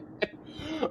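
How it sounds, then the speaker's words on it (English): A person coughs twice in quick succession, close and moderately loud, with a short throaty rasp between the two bursts. "Did you just break into coughing?"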